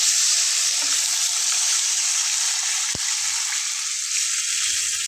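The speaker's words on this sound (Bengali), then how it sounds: "এখন আগে থেকে সিদ্ধ করে রাখা ডালটা আমি এখানে দিয়ে নিচ্ছি।" Boiled masoor lentils go into a hot pan of cooked-down masala, giving a steady close sizzle and wet bubbling with one sharp knock partway through.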